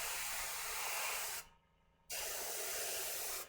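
Hairspray hisses from an aerosol can onto a Gaslands miniature model car in two close bursts, one long spray followed by a brief pause and another short blast that cuts off at the end.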